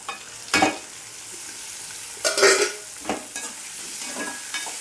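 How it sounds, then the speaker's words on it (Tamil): Tomatoes sautéing in a pan for egg rice, a steady close sizzle with spatula stirring strokes breaking through in a few louder scrapes, no talking. "நல்லா வதக்கிக்கலாம்"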